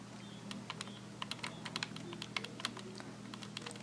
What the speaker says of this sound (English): let me type my message